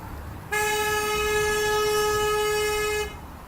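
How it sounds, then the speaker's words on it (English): A car horn honks in one long, steady blast of about two and a half seconds, loud and close, from an impatient driver on a street. Quieter traffic murmur comes before and after it, and no one speaks. "Impatient driver honking, still honking."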